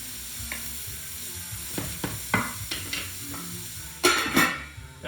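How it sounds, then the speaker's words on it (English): Onions frying in a pan for steak pudding gravy are stirred, a steady close sizzle broken by several scraping, clinking strokes of the spoon against the pan, with a louder burst of sizzling near the end. "So give that a bit of a stir."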